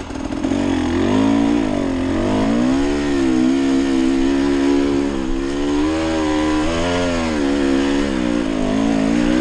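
A dirt bike engine revs loud and close, its pitch rising and falling in repeated waves and holding a steady buzzing drone throughout, with no talk.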